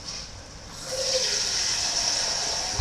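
Water runs and gushes steadily into a bowl, a continuous splashing flow that grows slightly louder partway through, with no talking.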